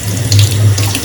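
Tap water running steadily into a sink as hands are washed, a close, loud, continuous gush with small splashing shifts.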